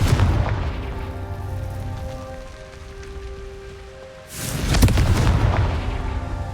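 A Confringo spell explosion in Hogwarts Legacy bursts loudly after a few seconds of low ambient rumble and tonal hum, followed by a crackling, rain-like spray that lingers.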